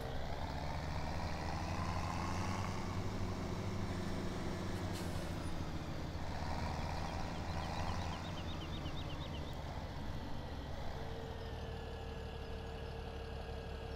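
A tractor engine in the farming video game Farming Simulator 17 drones steadily at idle, a continuous low mechanical hum with faint higher tones above it and no talk.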